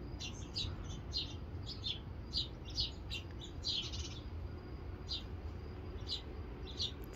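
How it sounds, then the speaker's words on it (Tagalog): Small birds in a garden, where they feed on dry sunflower seeds, chirp and tweet in quick bursts of high calls, clustered early and then sparser, over a steady low background hum. "Sarap pakinggan yung mga huni ng ibon."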